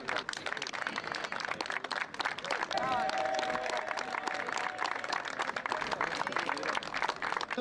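An audience claps continuously at a youth sports awards ceremony, dense steady applause filling the room while an announcer speaks over it through a loudspeaker.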